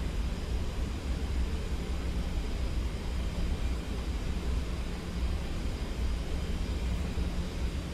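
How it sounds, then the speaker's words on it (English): Steady broadband roar of a Boeing 737 cockpit in flight in a flight simulator game, a constant engine and airflow rumble with no distinct flap motor sound standing out. "we're going to get a little bit closer and fully deploy the flaps before we take out the autopilot and the auto throttle. Deploy flaps 15."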